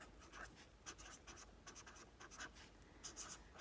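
A pencil writes numbers on paper in quick scratchy bursts of short strokes with brief pauses between them, close and quiet with no talking.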